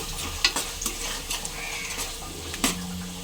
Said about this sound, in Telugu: అల్లం వెల్లుల్లి పేస్ట్ వేసుకున్నాక ఒకసారి మిక్స్ చేసుకోండి